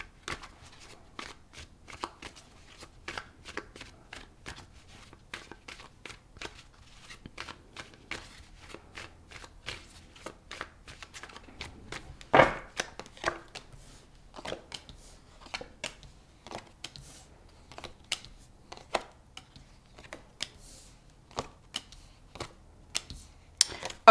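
A deck of tarot cards being shuffled by hand, a dense run of crisp riffling clicks and slaps close up, steady throughout with one louder snap midway and no talking.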